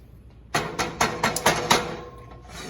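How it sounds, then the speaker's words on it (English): About a cup of wine poured from a bottle into meat in a pot for Bolognese sauce, heard as a run of rapid glugging, splashing bursts that fade into a quieter simmer. "we'll just pour that into the meat. That's about a cup of wine right there."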